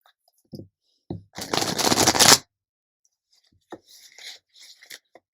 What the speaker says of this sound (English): I'll just give it one more shuffle.